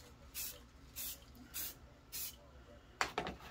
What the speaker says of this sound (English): So I'm just gonna give it a couple of